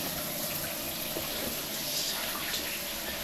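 A shower runs at an airport lounge, a steady hiss of falling water that stays even and fairly close throughout with no voices.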